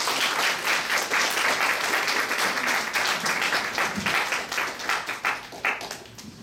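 Sustained audience applause with dense clapping throughout, loud and steady at first and thinning slightly toward the end.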